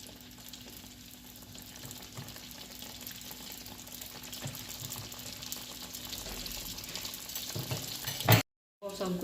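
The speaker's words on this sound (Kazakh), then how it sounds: "Енді осыны қайнаған майға саламыз." Baursak dough pieces dropped into boiling oil, a close bubbling sizzle that grows louder and busier over several seconds, cut off by a brief gap near the end.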